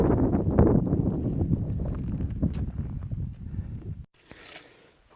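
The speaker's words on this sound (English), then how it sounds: "A little bit breezy." Outdoor wind on a warm, breezy hilltop hike rushes steadily into the microphone for about four seconds, then drops away to a quieter hiss.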